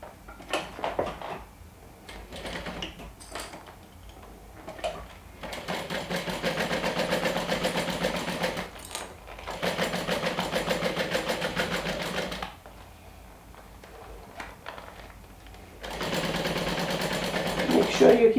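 A sewing machine top-stitches through one side of a fabric wand holder in several long, steady runs, each stopping and restarting between quieter pauses with small handling noises.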